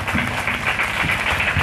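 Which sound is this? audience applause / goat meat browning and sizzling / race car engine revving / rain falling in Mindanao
audience applause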